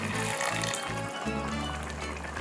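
A cup of water is poured into a simmering curry beef pot, a soft liquid splash and bubbling over faint background sound, with no voices during the pour.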